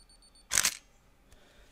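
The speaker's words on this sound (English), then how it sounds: "You can hear it beeping." A faint, high electronic beep tone, then a sharp, loud camera shutter click and a quieter click just after.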